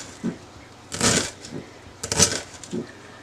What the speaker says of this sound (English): so I cut that onion in half, and now, slicey slice.